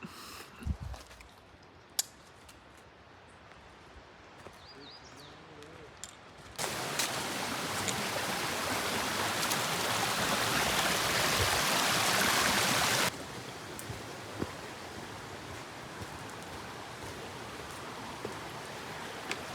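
A stream rushes at a river crossing on the Appalachian Trail in the Mountain Lake Wilderness, its broad steady hiss swelling loud and close for several seconds in the middle, then falling back to a softer wash.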